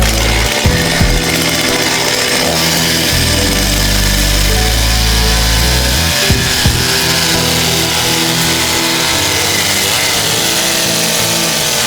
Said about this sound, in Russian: взяв в руки бензопилу, я возомнил себя настоящим мастером деревянных дел